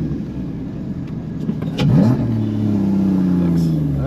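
On the Nürburgring track, a Porsche Cayman GT4 fitted with a carbon RS airbox passes close by with a rising engine note that swells loudly midway, then holds a steady drone as it carries on.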